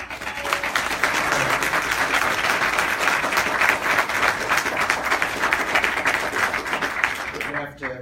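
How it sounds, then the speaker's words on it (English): Audience applause fills a Westchester County Executive debate hall, a dense sustained roar of clapping lasting several seconds at steady loudness before cutting off abruptly near the end. "We're going to have to cut into Mr. Astorino's applause at the end by 4 seconds"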